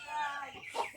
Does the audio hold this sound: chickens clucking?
yes